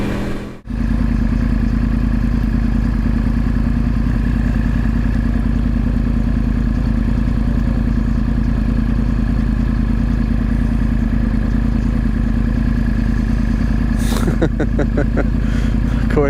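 A Yamaha R1 sport bike engine runs at a steady, even idle throughout, loud and close, with a brief clattering burst near the end.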